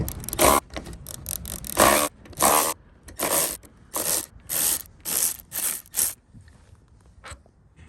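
A ratchet wrench loosens the rear roof rack bolts on a Lexus GX470 in a series of about nine close, crisp clicking bursts, each separated by a short pause.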